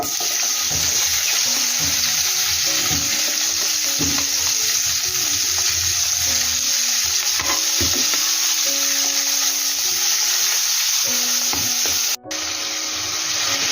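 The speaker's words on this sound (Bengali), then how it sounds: "ফোড়নটা রেডি হয়ে গেছে, এবার আমি দেব পুঁই ডাঁটাগুলো।" Malabar spinach stems sizzle loudly and steadily in hot tempered oil for a Bengali hilsa-head chachchari, a constant bright crackle with faint clinks of stirring.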